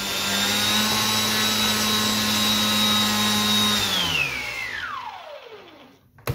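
Electric motor of a Guillow's Spitfire RC conversion model plane running up on a low battery: a steady loud high-pitched whine that holds for about four seconds, then drops smoothly in pitch as it spins down to silence.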